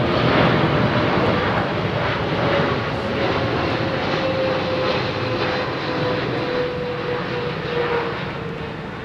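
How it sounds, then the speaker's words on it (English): A jet airliner lands at a windy Heathrow Airport, its engines a loud, steady broadband roar with a faint sustained whine held throughout and no voices. "As all that weight transfers onto the aircraft's main undercarriage."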